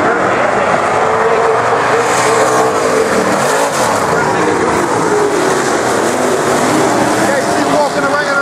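IMCA stock cars racing around Salina Speedway, a loud continuous roar of several engines with a broad noisy wash and passing swells, while an announcer talks over it.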